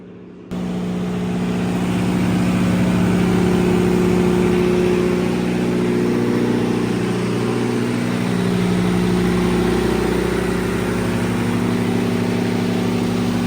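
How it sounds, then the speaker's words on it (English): A school's emergency generator runs during a power outage, starting abruptly and then holding a loud, steady engine drone with a constant hum, the pitch wavering slightly over time. "So power is out. School is running off the emergency generator."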